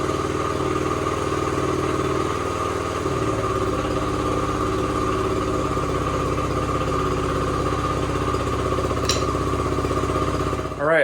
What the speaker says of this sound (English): Seems like it's actually idling now, and I can warm it up and get it tuned a little bit better.